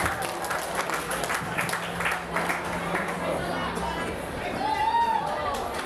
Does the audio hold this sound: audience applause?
yes